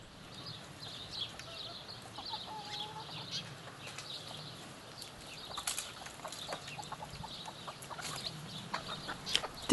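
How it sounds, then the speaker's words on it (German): Free-range chickens scratching outdoors, soft scattered clucks and occasional wing flaps against a quiet background, growing busier and louder toward the end, with no talking. "Heute geht es um Hühner."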